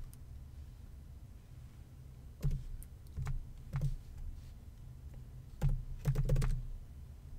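Keyboard typing on a computer during music software use comes in short, uneven clusters of clicky keystrokes, fairly close and clear over a low steady background hum, with no speech.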